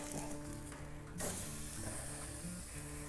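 Ribeye steak searing on a very hot grill just after flipping, a steady close sizzle and hiss with a sharp surge of crackling flare-up midway, no talk.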